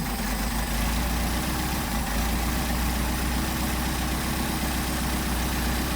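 An engine fitted with Solex 44PHH carburetors idles during idle mixture adjustment. It gives a loud, steady, low rumbling hum that stays even throughout, with no one talking.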